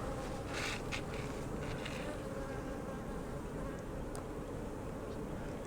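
Honey bees buzzing close by during an inspection of a single-deep hive with a honey super, while the queen is being marked: a dense, continuous drone that stays steady and unbroken, with no talk.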